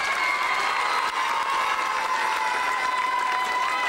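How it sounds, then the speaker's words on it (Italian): A crowd at a town festival celebrating a new Miss Italia applauds and cheers loudly and continuously, with whistles and shouting mixed into the dense clapping throughout. "Anna Valle, ancora un applauso."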